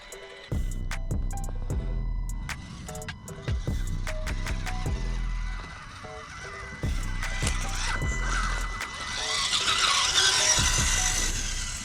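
An Axial UTB18 Capra RC trail buggy crawls over muddy rocks, its small electric motor whining in short rising bursts between pauses, with scrapes and knocks from the tires and chassis, close by and without speech.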